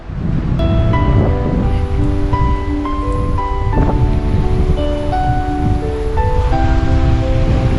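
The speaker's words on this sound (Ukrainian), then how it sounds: "Ого, вітерець піднявся ні на шутку." A strong wind blows outdoors at a recreation spot in the Carpathian foothills, roaring loudly and continuously across the microphone like surf, with faint tonal music underneath.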